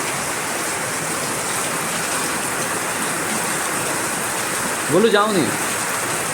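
Heavy rain pours steadily as a dense, even hiss that fills the whole scene, with a brief voice speaking near the end over the downpour.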